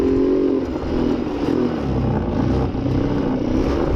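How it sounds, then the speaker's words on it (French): A neglected quad bike left outside for a year revs hard from standstill, its engine droning loud and close with a rough, uneven note that stumbles around half throttle. "si on se met à l'arrêt qu'on accélère d'un coup, il a l'air de bugger en mi-accélérateur là"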